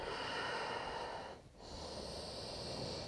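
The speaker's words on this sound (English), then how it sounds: "Keep listening to the sound of your breath here." Steady, hushed ujjayi breathing during a yoga practice, a continuous airy rush close up with a brief dip midway as the breath turns, then the long exhale resumes.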